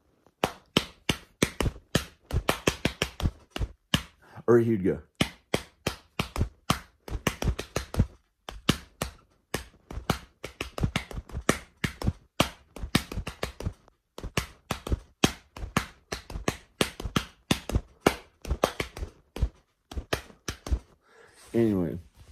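A drum beat imitated by tapping, a fast rhythmic run of sharp dry taps and knocks with varied accents, alone and close, with a few spoken words in between.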